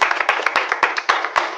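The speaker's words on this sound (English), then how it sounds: "A round of applause for them, please." Loud close clapping from a small studio audience on a Nigerian accountancy quiz show, for University of Lagos accounting contestants, with sharp individual claps standing out in a quick uneven rhythm.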